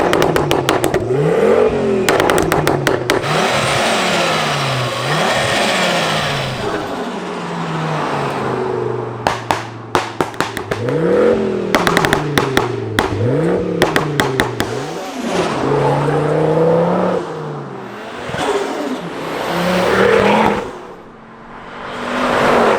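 A 520 hp Ford Focus RS Mk2 with a five-cylinder turbo engine, large K&N intake filter and 3-inch exhaust revs loud and close, with repeated sharp rises and falls in pitch and crackling bursts between the revs.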